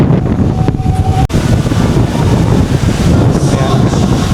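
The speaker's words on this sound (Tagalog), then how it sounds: "lalo lumalakas yung hangin" Strong wind batters the microphone on a Boracay beach, a loud, steady roar with rumbling gusts and a brief dropout partway through, and no voices.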